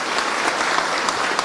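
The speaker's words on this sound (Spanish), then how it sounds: "Otro aplauso, por favor, para el compañero Yarul" An audience applauds at a public forum on Schafik's thought, producing a dense, steady wash of many hands clapping at close range. It is loud and continuous throughout.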